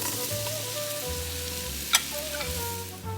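Portabella mushrooms sauté in melted butter in a pot with a steady sizzle and occasional stirring, one brief louder clatter midway, with no talking.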